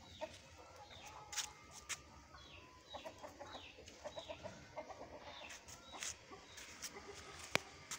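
Many chickens clucking softly in a farmyard, scattered short clucks and calls at moderate distance over a faint outdoor background, with occasional louder sharp calls.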